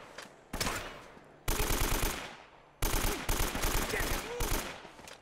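AK rifle bursts in the video game Uncharted: Drake's Fortune: three long, loud sustained automatic volleys, each rattling with rapid shots and breaking off abruptly, with short pauses between.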